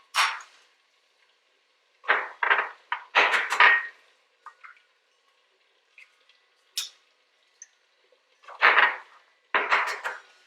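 Farm fresh eggs cracked into a separate container: a few sharp taps and cracks in small clusters, close and clear, with brief quiet gaps and no talking.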